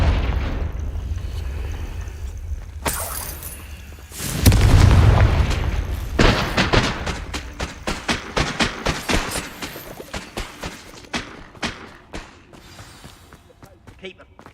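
A Confringo fire spell explodes in the video game Hogwarts Legacy with one deep, heavy boom midway, followed by a rapid run of punchy thuds and crackles that fade out, with game voices around it.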